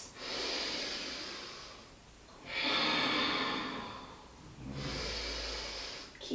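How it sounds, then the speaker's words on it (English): Slow, deep breaths during a hamstring stretching session: three long, airy inhales and exhales at a steady pace, close and fairly loud, with no talking. "Deep breaths."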